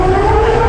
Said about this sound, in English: And then round two as the tsunami sirens wail.